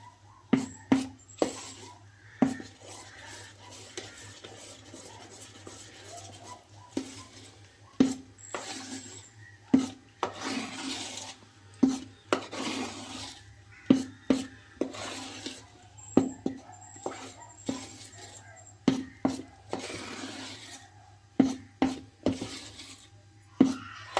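Chocolate cake batter for a Christmas cake being mixed to a creamy consistency in a bowl, with repeated scraping and knocking strokes against the bowl in an uneven rhythm, close and clear over a low background hum.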